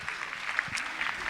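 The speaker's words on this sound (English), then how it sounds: "So can we give them a round of applause, please?" A school assembly audience at a 50th anniversary celebration applauds two gentlemen, a brief, fairly faint wash of clapping with a little crowd murmur.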